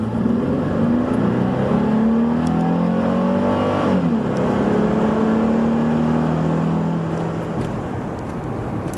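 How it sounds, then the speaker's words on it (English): A 1996 Acura 3.2TL V6 accelerating from 0 to 60, engine pitch climbing through the gears with a shift around the midpoint, heard from inside the car and easing off near the end. "I'll go ahead and give you guys a little taste of the 0 to 60."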